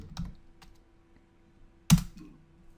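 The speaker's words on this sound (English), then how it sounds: "we come up here and we type in coach." Few sparse keystrokes on a computer keyboard, quiet taps with one sharper click near the end, close and alone.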